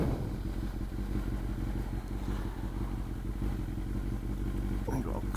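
A Kawasaki-Ducati hybrid motorcycle drones steadily as it is ridden, with a constant close engine hum, wind rush and occasional light clatter throughout.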